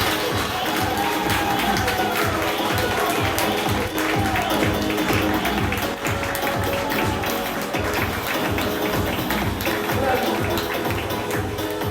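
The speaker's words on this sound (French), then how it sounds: "Applaudissements dans la salle, s'il vous plaît" Audience in a hall applauding the newly elected Miss 24 Heures du Mans 2015, dense rhythmic clapping that stays loud and sustained, with crowd noise and voices mixed in.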